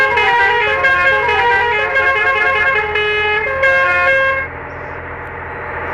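A bus horn in the Bus Simulator Indonesia video game sounds as one sustained, loud, multi-tone blast lasting about four seconds, then cuts off abruptly, leaving a quiet background.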